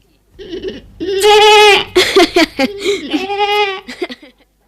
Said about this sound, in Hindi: बिन्नी आश्रम की एक बकरी थी।